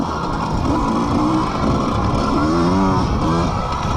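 Vintage racing motorcycles roar continuously at an AHRMA White Rose race, engines revving and shifting pitch as they pass, loud and steady with no break.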